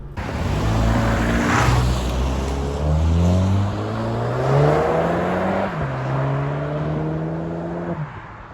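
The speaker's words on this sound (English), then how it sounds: "at idle, the exhaust is not fantastic. Under load, it's decent for a four-banger" A 2021 Volkswagen GTI four-cylinder engine revs up and down in smooth, rising sweeps, its exhaust droning steadily at moderate volume with no speech.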